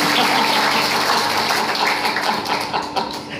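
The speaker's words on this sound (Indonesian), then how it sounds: "Tepuk tangan untuk Tuhan Yesus." A church congregation applauding during a sermon, a loud, sustained wash of many hands clapping that thins slightly toward the end.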